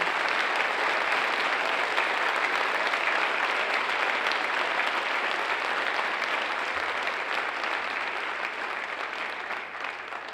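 A school auditorium audience at a spring band concert senior night claps in steady, dense applause that holds strong for about ten seconds and tapers slightly at the end.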